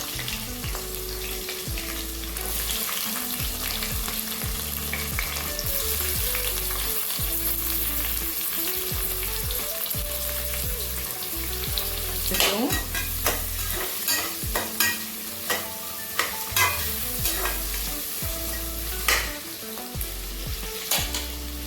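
Two thinly sliced onions sizzle steadily in a hot pan for chicken biryani. Partway through, scraping stirring sounds and sharp clinks from a utensil join the sizzle.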